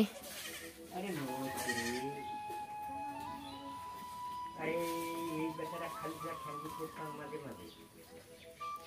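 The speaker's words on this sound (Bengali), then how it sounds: "ছাগলটা ধর।" A goat in a village bleats in several wavering, drawn-out cries, fairly close, with people talking in the background between the calls.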